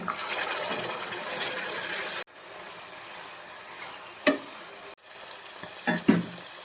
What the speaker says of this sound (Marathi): वाटाणा मऊ होईपर्यंत होईपर्यंत भाजून घ्यायचं